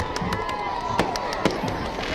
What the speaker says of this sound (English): There's a fireworks going off, provided by CRC Plating.